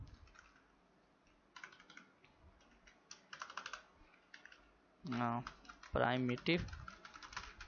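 Quiet, steady typing on a computer keyboard while someone writes out JavaScript primitive data types, with bursts of clacking keys running under a voice speaking Hindi.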